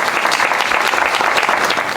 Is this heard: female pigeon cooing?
no